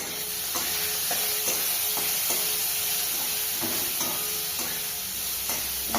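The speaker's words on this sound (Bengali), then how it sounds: "এবার একটু নাড়ি," Onion, garlic and broken chili fry in hot oil with a constant sizzle, while a utensil scrapes and stirs through the pan in repeated strokes.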